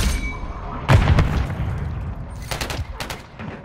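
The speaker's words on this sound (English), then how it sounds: "I'm gonna start shooting teammates" Gunfire in a Call of Duty: Modern Warfare 3 hardcore Control match: a loud sharp volley of shots, then quieter rumble and a rapid cluster of cracks later on, with no talking.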